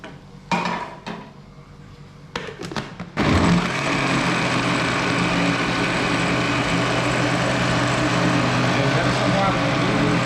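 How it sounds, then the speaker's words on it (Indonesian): A kitchen blender grinds shallots and garlic together into a spice paste, starting after a few clinks of utensils and then running as a loud, steady whirring roar to the end. "kita masukkan ke blenderan bawang merah bawang putih"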